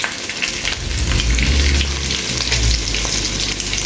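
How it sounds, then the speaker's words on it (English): Pigtail browning in rendered fat on a stovetop, a loud, dense, continuous sizzle and crackle like rain, no talking. "while my pigtail is browning up over there on the stove"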